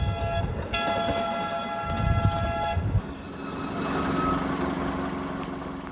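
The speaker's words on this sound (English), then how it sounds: "This is the locomotive at the Trinity Loop amusement park." An old Newfoundland Railway locomotive at the Trinity Loop amusement park rumbles along the track with a rattling, rolling roar, and a horn or whistle tone sounds for a few seconds near the start.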